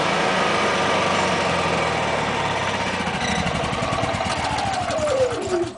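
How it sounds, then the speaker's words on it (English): A Honda EU3000iS generator engine runs steadily at a loud, close range, then winds down with a falling pitch as it is shut off by remote near the end. "Now shut the generator off."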